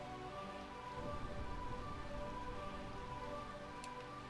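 Steady soft rain falls in the Realm of Eternal Rain area of the Final Fantasy IX video game. It is a faint, even hiss that runs alone under quiet background music throughout.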